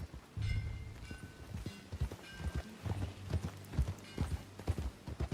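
Rhythmic hoofbeats of a horse galloping in the video game Red Dead Redemption 2, quick repeated thuds at a steady pace, fairly close with a faint mechanical clatter behind.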